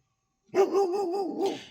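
A dog barks once in a long, wavering, whine-like call lasting over a second, close and fairly loud after a stretch of silence, with no talk.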